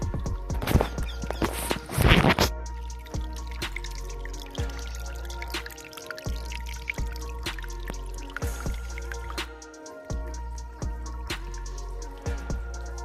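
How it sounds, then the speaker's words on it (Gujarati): Rainwater from the previous day's rain runs along a hillside forest path, a steady wet trickle with scattered drips and occasional squelching footsteps, fairly close throughout. "પાણી બધે હાલ્યું જાય છે આ તમે જુઓ"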